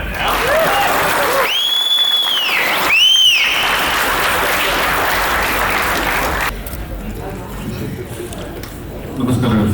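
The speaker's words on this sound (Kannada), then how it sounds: "ಸೂಪರ್ ಫ್ಯಾಮಿಲಿಗೆ ಚಪ್ಪಾಳೆ." Audience applause at a Kannada film press meet, a dense steady wash of clapping that fills the room throughout, briefly joined by whistle-like cheers and thinning slightly toward the end.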